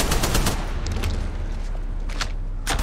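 Rapid gunfire from enemies in the battle royale game Apex Legends, with dense bursts of automatic shots and cracks running the whole clip at close range, loud and unbroken.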